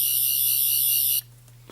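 Tenth Doctor sonic screwdriver toy from Doctor Who, collapsible with lights and sound, emitting a loud, steady, high-pitched electronic whine that holds for just over a second and then cuts off abruptly, leaving a faint low hum.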